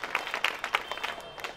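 A poetry gathering's audience claps in a short burst of scattered, fairly soft applause filling the room, with no voices over it.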